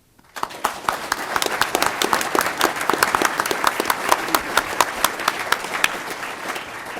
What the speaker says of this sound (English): give a round of applause to the Peregrine Fund